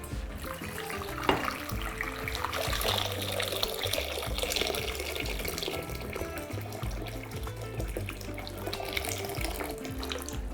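Boiled water poured from a tap-like stream into a glass bowl, a steady continuous splashing rush lasting throughout, close and fairly loud, with no voices.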